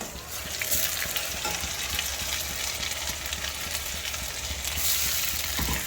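Ground tomato poured over frying onions in a pan for anchovy fish curry, a dense, continuous close sizzle with a faint crackle running through it.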